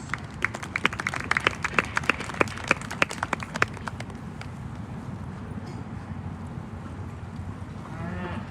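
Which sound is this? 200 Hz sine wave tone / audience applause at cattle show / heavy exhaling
audience applause at cattle show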